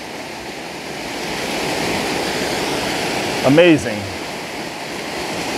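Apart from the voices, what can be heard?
waterfall rushing down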